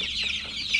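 Darag native chickens, a Philippine breed, cluck and peep in a steady, close chorus that continues through the moment with no voices.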